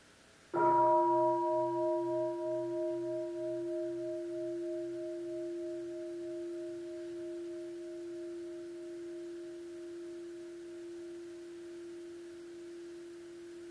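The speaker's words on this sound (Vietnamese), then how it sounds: "Con mời đại chúng nghe một tiếng chuông." A mindfulness bell is struck once during Buddhist meditation, giving a clear attack followed by a long, pure, steadily fading ring with a gentle pulsing waver, heard alone in a quiet room.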